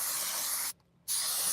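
A sprayer applies water-based finish onto wood in two close, steady hissing bursts separated by a brief pause.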